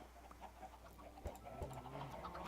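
Chickens cluck in a video game during a relaxed stream, short soft bursts of clucking with a couple of sharper peaks, moderately quiet against steady background hum and no talk.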